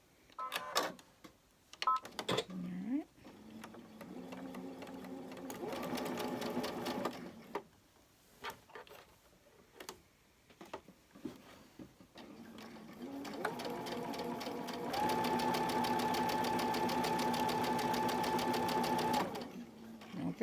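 A sewing machine stitches quilt block seams in several bursts of rapid, steady mechanical whirring, the longest run lasting about four seconds, broken by brief pauses and small handling clicks.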